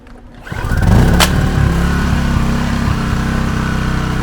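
A Dnipro-M gasoline generator's small engine catching after priming, surging up within a second into a loud, steady close running drone that settles into an even rumble, without any talking.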